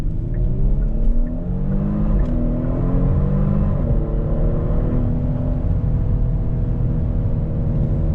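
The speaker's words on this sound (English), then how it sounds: "That active exhaust sounds fantastic." A 2022 Genesis G70 V6 sports sedan with active exhaust pulls hard through the gears, its exhaust note rising in pitch with a brief shift dip, loud and close with a constant road rumble underneath.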